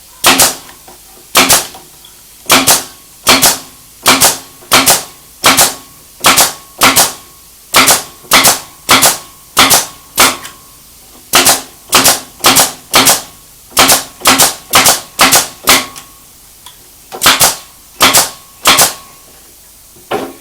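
A pneumatic stapler runs off a big air compressor, firing staples in a long run of sharp, loud, close snaps, mostly in quick pairs with short gaps, about thirty shots in all.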